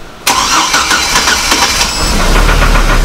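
A Hummer H3 engine cranks and catches abruptly after a short quiet pause, then runs loud and rough with an uneven, pulsing idle that settles into a lower drone; no one speaks.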